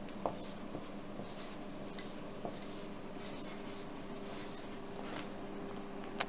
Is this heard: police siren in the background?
no